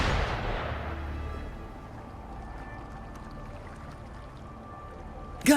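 Video game gunfire: a heavy boom fades into a low rumbling ambience, then another sharp, loud burst of fire hits near the end.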